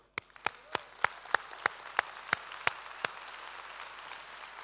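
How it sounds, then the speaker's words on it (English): An audience at a company founder and CEO's talk applauds, with around a dozen sharp, evenly spaced claps standing out close by over softer, steady crowd clapping that continues after them. "I'll applaud you all for doing that"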